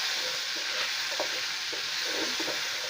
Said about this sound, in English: I'm going to stir this up. Yeah, so I'm stirring it for around